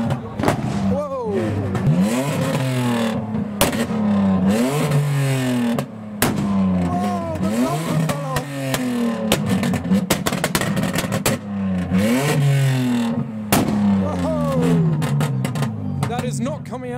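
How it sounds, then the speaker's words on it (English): A BMW E46 at a car meet revs hard again and again, each rise and fall of the engine broken by sharp backfire pops and bangs as it shoots flames, while people nearby talk and exclaim over it. "Someone is shooting some almighty flames. I think it's a BMW E46."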